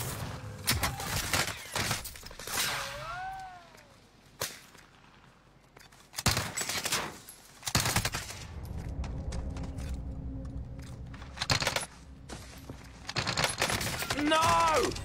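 Repeated bursts of video game gunfire from a weak gun, loud sharp volleys spread through the stretch with pauses between, mixed with other game sounds and a voice now and then.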